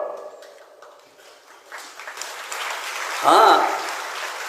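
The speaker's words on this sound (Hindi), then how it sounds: "आप लोग ताली तो खूब बजाते हो" Audience applause at a Hindi religious sermon rises and swells into a loud burst of clapping, with a speaking voice briefly over it at the start.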